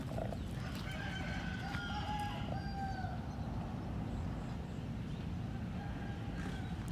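A rooster crows a few times in the distance while chickens cluck and chatter around it over a steady outdoor background.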